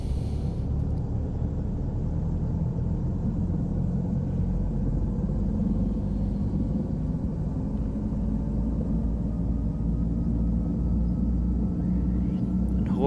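A helicopter engine in Microsoft Flight Simulator throttles up, producing a steady, dense low rumble and whine that holds constant and loud with no voices over it.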